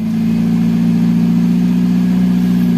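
A Nissan Grand Livina petrol engine idles with its RPM hunting up and down, giving a steady, close mid-low hum with a faint pulsing waver throughout.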